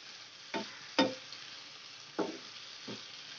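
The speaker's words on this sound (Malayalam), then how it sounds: "ഒരു മീഡിയം ഫ്ലെയിമിൽ വെച്ചിട്ട് ഇതൊന്ന് വേവിച്ചെടുക്കണം. മൂടി വെച്ചിട്ടൊന്ന് ഇടയ്ക്ക് ഇതൊന്ന് ഇളക്കി കൊടുത്തോണ്ടിരിക്കണം." Potatoes frying in a pan over a medium flame, stirred now and then: a soft, steady sizzle with four brief scraping clatters of the spoon against the pan, no voices.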